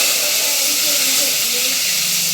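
Tomatoes and potatoes sautéing together in a pan for a cluster bean and potato curry, giving a steady, loud, close sizzling hiss with no break.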